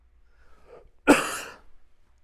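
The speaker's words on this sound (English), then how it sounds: "Sorry, I have to cough." A single short cough bursts out close to the microphone, preceded by a faint murmur and trailing off into quiet breathing.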